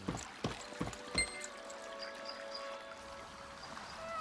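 Boat setting off down a river in the game Lost Ark: a few heavy knocking thuds at the start, then a steady watery rush and trickle of the current under faint ambient tones.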